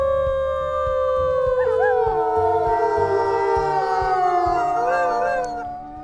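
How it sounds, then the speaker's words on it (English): Several wolves in a wolf video game howl together in long, overlapping, wavering tones, loud and close, with no speech. "Let's go ahead and do another howl."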